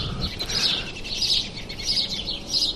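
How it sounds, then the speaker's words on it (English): Birds singing in a backyard before sunrise, several high chirping phrases repeating in clusters at a moderate distance, bright and clear against a quiet background hum. "I am just sitting in my backyard with a coffee, listening to the birds."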